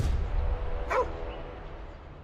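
A hunting hound in the game Manor Lords gives a single short bark over steady low background game ambience, brief and moderately close.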